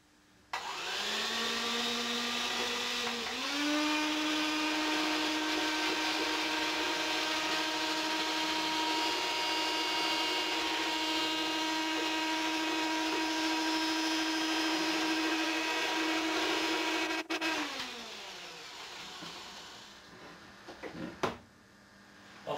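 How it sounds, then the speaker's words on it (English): An electric whisk beats pancake batter in a home kitchen, its steady motor whine rising in pitch after a few seconds and holding for about fifteen seconds before winding down, followed by a couple of faint knocks. "I'm going to use an electric whisk, just because it does the job quicker and easier"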